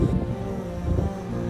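Strong wind blowing across a farm field, a loud, continuous low rumble buffeting the microphone, with no other clear sounds.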